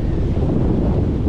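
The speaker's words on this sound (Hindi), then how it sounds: "यहाँ पे इतना गजब का इतना ठंडी हवा चल रही है" Strong, cool wind blows steadily by the Indian Ocean shore in Mombasa's Old Town, roaring against the microphone as a constant broad rumble.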